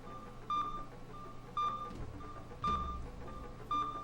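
Four evenly spaced electronic beeps, roughly one per second, sound in the video game Kileak over a low background hum, with faint muffled thuds in between.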